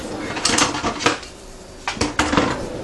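Nuts tossed with cinnamon in a bowl using a spoon for baklava, giving scattered clinks and scraping clatters in short bursts at close range.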